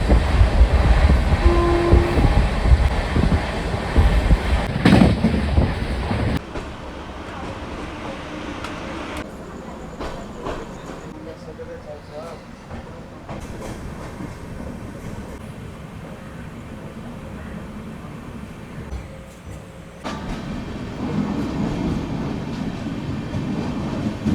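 Passenger train running on Indian Railways track after departing Bardhaman Junction toward Bolpur Shantiniketan, a steady rumbling roar with rattling carriages, louder at the start, then a quieter continuous ride.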